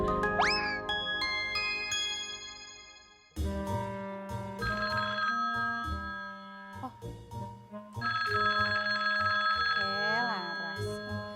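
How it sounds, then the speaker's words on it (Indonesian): A telephone rings with a repeating melodic ringtone, loud and clear, sounding in several sustained bursts with brief breaks between them. "itu tadi gurunya Dio telepon Laras"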